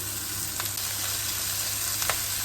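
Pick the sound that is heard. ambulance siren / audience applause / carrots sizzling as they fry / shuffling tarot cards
carrots sizzling as they fry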